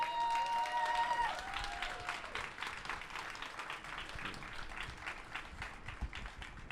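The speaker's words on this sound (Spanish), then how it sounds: "Un fuerte aplauso, por favor." Applause from an audience at a book presentation, honouring the author of the book "Más allá del mar"; a short tone rings out first, then steady, moderately loud clapping continues to the end.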